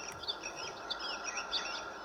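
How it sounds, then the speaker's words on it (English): A white noise machine plays a bird-song track: soft, continuous chirps and tweets over a steady, even hiss, at low volume with no talking. "This is birds."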